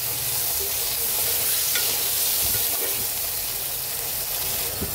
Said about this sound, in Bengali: এবার আলু আর সিমটাকে একটু হালকা ভেজে নেব।